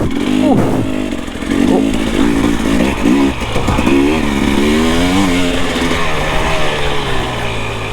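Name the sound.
Husqvarna motorcycle engine revving while riding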